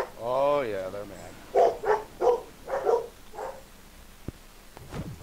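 Dogs barking: a whining note followed by a quick series of five or six sharp barks, fairly close and loud, then a faint tail of noise.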